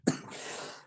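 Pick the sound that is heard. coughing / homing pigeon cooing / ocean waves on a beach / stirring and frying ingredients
coughing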